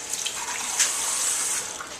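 Water runs steadily from a tap into a bowl of pumpkin cookie dough made with dehydrated ingredients, a continuous close splashing gush with no talk.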